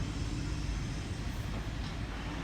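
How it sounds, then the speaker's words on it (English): A Sydney suburban train pulls into platform 3 at Penrith station, giving a steady, continuous low rumble and rolling rail noise for the whole stretch with no voices. "Emu Plains service arriving into platform number 3."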